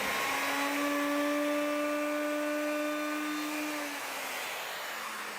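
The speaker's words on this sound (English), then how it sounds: "Routing the handles in the bottom of the chopping boards that I make is again another one of those messy jobs." A wood router cuts handles into the bottom of wooden chopping boards, giving a loud, steady high-pitched whine that tapers slightly toward the end.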